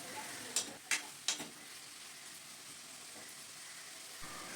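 Sliced carrots fry in a pan with salt and turmeric, giving a faint steady sizzle with a few sharp clicks of a spatula early on.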